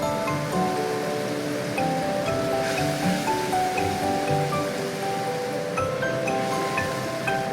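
Water poured into a pan of frying spices for a Bengali cauliflower and potato curry sets off a soft, steady sizzle and hiss, close and fairly quiet, with no talk over it.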